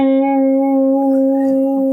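A guitar plays one sustained note with a slightly different, wavering tone, ringing loudly and steadily with a faint buzz of extra noise underneath.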